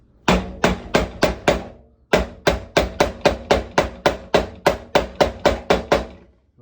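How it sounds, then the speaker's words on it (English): Steady, sharp hammer blows drive a bolt into wood in a quick, even rhythm, a short burst of five, a brief pause, then a longer run of about fifteen. "So here we go with a hammer."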